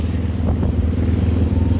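A large convoy of motorcycles, trucks and pickups moves through Cochabamba, Bolivia, making a loud, steady rumble of engines with some clattering, and no clear speech.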